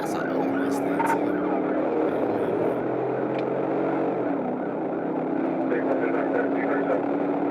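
An old V6 Ford Mustang engine drones steadily as the car drives fast, a continuous road and engine roar with shifting pitch, while a person talks over it.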